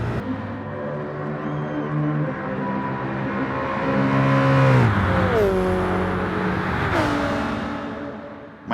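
A Coyote V8 race car engine in a racing game revs loudly and steadily, its tone climbing, dropping sharply at two gear changes and climbing again, close and continuous with no talk.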